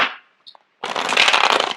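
A deck of tarot cards is riffled close up: a brief tap and a few soft clicks, then a dense, crackling burst of cards fluttering together for about a second, with no voices.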